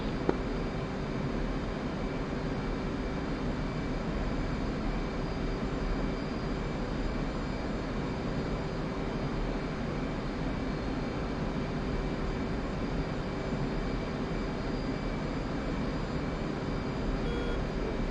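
Inside a DCS flight simulator cockpit, a fighter's jet engine runs at full throttle without afterburner, a steady, even roar with a faint high whine that holds unchanged throughout, no voices over it.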